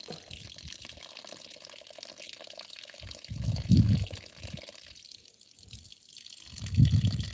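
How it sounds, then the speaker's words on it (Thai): Water from a tap runs and drips in short splashing bursts separated by quieter gaps, close by and without talk. "น้ำไหลหน่อยมาก"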